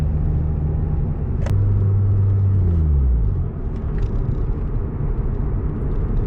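Mazda RX-8 rotary engine with an idle fault, idling with a steady low droning hum that sags in pitch and cuts out as it stalls, leaving quiet background rumble.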